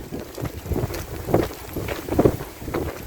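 Wind rushes and buffets the microphone in rhythmic gusts during a downhill hike on a mountain ridge trail toward Negrar, a steady close roar with no talking.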